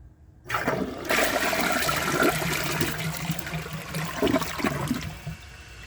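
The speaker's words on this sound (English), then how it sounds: "So I'm going to do a press and release flush" A 2017 Sterling Windham toilet flushes close by with a press-and-release flush, a sudden loud rush of water that swirls for several seconds before easing toward a trickle.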